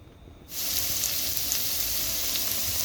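Garlic hits hot cooking oil in a Dutch oven with a sudden loud sizzle that starts a half second in and holds as a steady, close, crackling hiss.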